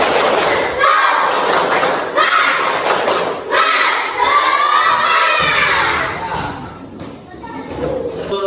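Schoolchildren in a primary classroom perform a rhythmic clapping chant, loud shouted voices mixed with bursts of hand claps and thumps in short repeated phrases.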